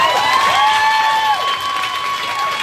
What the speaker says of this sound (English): can you give her a round of applause before we go?